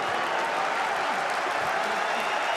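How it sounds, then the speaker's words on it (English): Arena crowd applauding at the close of a boxing match in Zagreb, a dense, steady wash of clapping and crowd noise that holds at an even level throughout, with no clear voices standing out. "And the crowd appreciative right up until the end."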